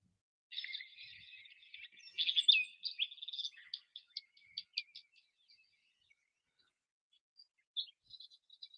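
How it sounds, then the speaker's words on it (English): Small birds chirp and tweet in a series of quick high calls, a busy burst early on thinning to scattered isolated chirps with brief pauses, fairly close and clear with no talking. "Where are the birds?"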